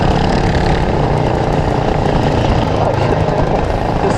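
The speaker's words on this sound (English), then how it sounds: "So I was stuck on full throttle, I think for 5 or 10 minutes, and just fighting the kart through the corners." A racing kart engine stuck at full throttle on a kart track, droning loud and unbroken at a constant high pitch close by, with wind buffeting and no let-up.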